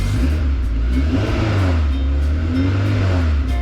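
A fully built Honda S2000 fitted with a K24 engine runs steadily at a low idle, its deep, continuous drone close and unbroken with no voices over it.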